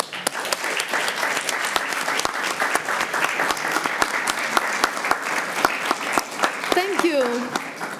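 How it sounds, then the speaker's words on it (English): Audience applause for artists at an AI and music festival session, a steady dense wash of clapping lasting throughout with sharper individual claps standing out, loud and close, and a brief whistle or cheer near the end. "So please applaud them."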